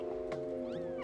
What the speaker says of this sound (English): It said meow to attract enemies.